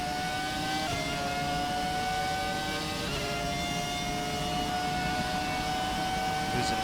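A Ferrari F2004 Formula 1 car screams steadily in F1 2017, its high-pitched V10 engine note holding close and loud with a brief shift in pitch, with no voices present.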